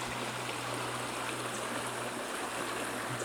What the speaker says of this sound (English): This water eventually turns into the falls that we saw yesterday.